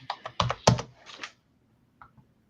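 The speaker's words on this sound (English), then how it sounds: "You guys Val's clicking on the keyboard there." Close computer keyboard clicking, a quick burst of crisp keystrokes and then a pause, with two faint taps near the end.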